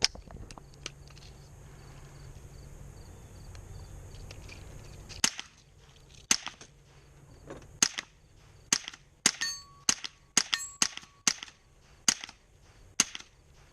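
A .22 plinking rifle fires about a dozen sharp, quiet cracks, spaced unevenly and a little faster toward the end, after several seconds of low background hum with no talking.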